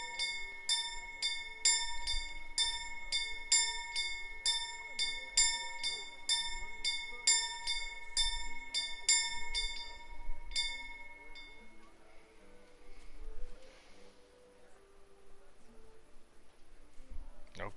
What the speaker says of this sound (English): he's ringing the bell